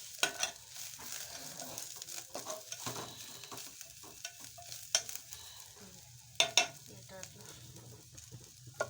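Green gram sizzles softly in oil in a pan, with a steady faint fry broken by scraping stirs and occasional louder clatters of a spoon against the pan.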